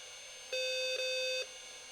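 A single electronic error beep from an NEC PowerMate SX/20 computer that shows nothing on its display holds steadily for about a second, with a brief dip in the middle, over quiet background hiss.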